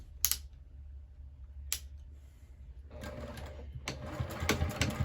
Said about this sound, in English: I'm going to sew the entire thing at a 1/4 inch seam allowance